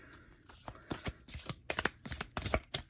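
Tarot cards are shuffled close by in a run of short, crisp riffling bursts, roughly one every half second, with brief pauses in between and no voices.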